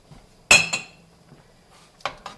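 A utensil knocks against a pot while carrots are stirred into split pea soup: a sharp metallic clink followed by a second tap, quiet scraping, then two more clinks near the end.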